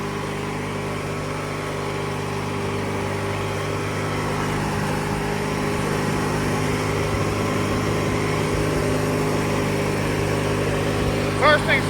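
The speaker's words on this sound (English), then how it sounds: "I'm gonna mow this down here by the road." A 1997 MTD Yard Machines riding lawn mower runs steadily near the road, its engine a continuous drone that swells slightly louder partway through, with a faint brief clatter near the end.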